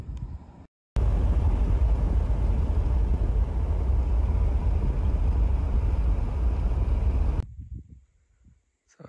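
Car driving on a road in West Texas, heard from inside as a loud, steady low rumble and road roar that cuts in abruptly, holds for several seconds, then fades and drops out.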